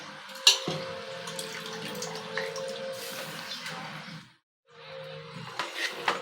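Soaked red lentils for Mysore dal tip into a pan with a wet, splashy pour, followed by scraping and stirring. A brief silent gap comes before the stirring resumes.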